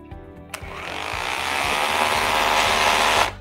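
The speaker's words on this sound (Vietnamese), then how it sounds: "Nó khởi động mềm á, nó khởi động mềm, nó nghe từ từ lên nó mới đạt được tốc của nó." A cordless M21-RH2603PLUS hammer drill soft-starts in hammer mode: a sharp click, then a loud, close motor whir and hammering rattle that build gradually to full speed and stop abruptly.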